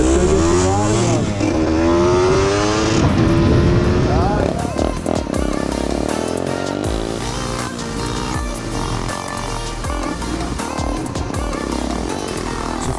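A 1993 KDX 125 SR dirt bike is ridden on a track, its small engine revving and rising and falling in pitch up close, with wind buffeting and a voice partly over it.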